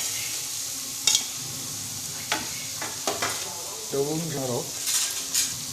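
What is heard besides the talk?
stirring onions cooking in a pan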